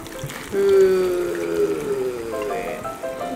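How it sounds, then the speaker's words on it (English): Water poured into a bowl of dry ice, a bubbling, trickling rush that swells suddenly and then keeps churning with a few tonal hums, close and fairly loud, with no talking. "now I'm going to add water"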